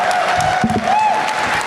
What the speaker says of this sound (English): Please give me a huge round of applause, everybody